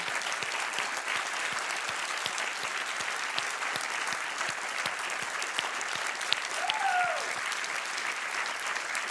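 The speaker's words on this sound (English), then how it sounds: "I would like to ask the winners to rise for their well-deserved applause" Sustained audience applause for award winners at a ceremony, a steady dense wash of many hands clapping with no break, fairly distant and even, with a brief whistle or voice rising near the end.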